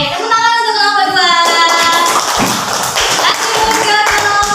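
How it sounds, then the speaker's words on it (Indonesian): Students in a classroom applauding a presenting group, a short spell of loose, irregular clapping following a voice, close and moderately loud with some thumping taps. "tepuk tangan untuk kelompok 2"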